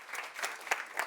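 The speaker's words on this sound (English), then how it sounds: "a huge round of applause for" Quiet audience applause at an event on equity and the green transition, a short patch of scattered clapping heard at a distance and fairly faint.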